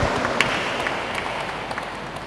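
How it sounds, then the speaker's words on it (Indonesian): Wedding guests applauding a newly married couple at a Christian holy matrimony ceremony, a steady wash of clapping from a large congregation, fairly loud and even, fading slightly toward the end. "Kita beri tepuk tangan untuk mereka berdua."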